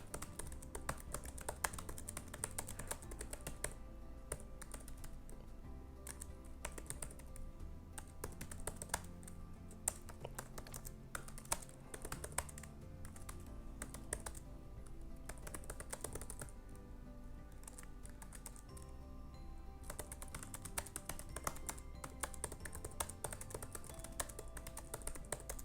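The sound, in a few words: typing out The Great Gatsby on a computer keyboard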